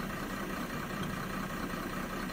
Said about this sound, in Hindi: इंजन के साउंड में कोई फ़र्क नहीं पड़ रहा है